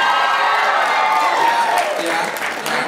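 An audience at a Melbourne anime convention panel claps in a steady, full round of applause that fills the room, thinning slightly toward the end, with a few voices mixed into the clapping.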